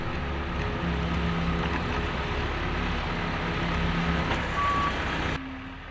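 A Lasercat skid steer grader/loader with auto laser leveling backs up on a concrete site, its engine droning steadily and loud while a faint reversing beep sounds, cutting off abruptly near the end.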